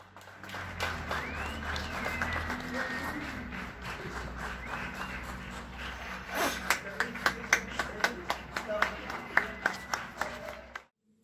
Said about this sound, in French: Place au direct avec les applaudissements de la rue Charles Puyot